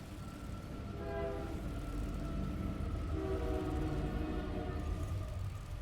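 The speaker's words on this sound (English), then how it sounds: "Oh, train." A train in the Astroneer video game rumbles along steadily with a low rolling drone, while faint tonal whistle or horn lines drift above it and no one speaks.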